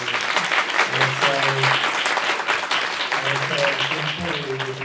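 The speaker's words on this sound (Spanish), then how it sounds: "un caluroso aplauso a Maya" An audience at a university presentation claps warmly, steady applause with a low voice humming or murmuring beneath it at times, filling the room continuously.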